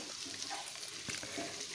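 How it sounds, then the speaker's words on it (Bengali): Bhindi deep-fry in a pot of hot oil with a steady crackling hiss up close. A couple of faint stirring knocks break through. "ভেন্ডিগুলো বেশ এখন ভাজা হয়ে গেছে।"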